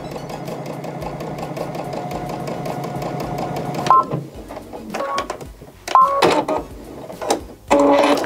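A sewing machine runs steadily for about four seconds, stitching along a seam with a fast, even whir, then stops and gives way to a few sharp clicks and thumps.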